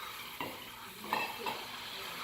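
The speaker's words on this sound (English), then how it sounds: "Go ahead and put the bananas in the pan." Bananas hitting a hot pan with banana liqueur for Bananas Foster, giving a low, steady sizzle with a few soft scrapes of stirring, close by and fairly quiet.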